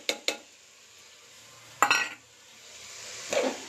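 Rice and dal being stirred in a pot, a few sharp metallic clinks of a spoon against the pot, then scraping stirs over a soft sizzle, close and fairly quiet.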